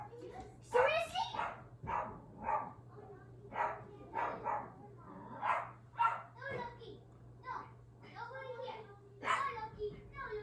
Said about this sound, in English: do they bark like my dog barks every time a person walks by or a car?